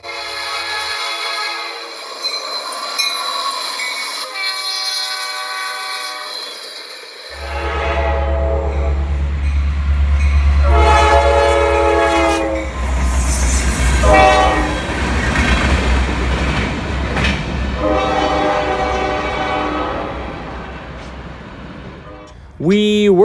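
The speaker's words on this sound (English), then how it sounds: "It had GP60s as the motive power, and only 2 grain cars." A freight train led by GP60 locomotives with grain cars passes close, a loud horn blaring in long blasts over a heavy low rumble of the engines and rolling wheels.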